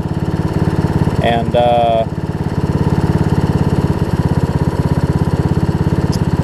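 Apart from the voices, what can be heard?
riding lawn mower engine idling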